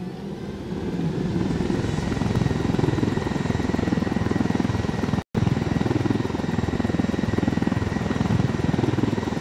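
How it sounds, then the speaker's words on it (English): A helicopter in the video game Ghost Recon Wildlands flies close and loud, its steady rotor and engine drone filling the scene without pause. "I'm not letting them take their plane, I mean helicopter, so I just book it."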